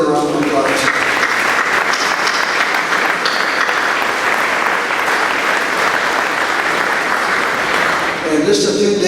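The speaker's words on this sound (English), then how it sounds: "Let's give them a round of applause." Sustained, dense applause from a large audience at an alumni banquet. It stays loud and steady throughout, with a voice over the clapping as it starts and again as it fades.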